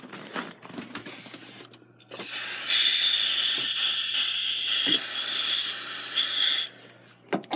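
Silicone lubricant sprays from an aerosol can in one loud, close, continuous hiss lasting about four and a half seconds, preceded and followed by quiet handling rustles.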